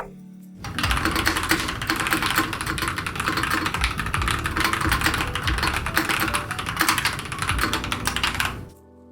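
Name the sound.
mechanical keyboard with red switches, typing sound test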